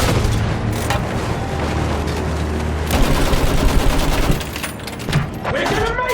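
Dense gunfire from the World War I shooter game Battlefield 1 fills the scene with rapid rifle and machine-gun bursts and booming blasts, all loud and continuous, with shouting voices mixed in.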